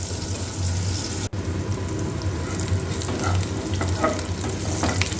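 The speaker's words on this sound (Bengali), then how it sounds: "এবার রসুন লঙ্কাটা ভেজে নিয়ে ক্যাপসিকাম পেঁয়াজ এগুলো ভালো করে ভেজে নেব" Garlic, chili, capsicum and onion fry in a pan with a loud, continuous close sizzle, broken by one brief dropout early on, while stirring adds soft scraping and rustling throughout.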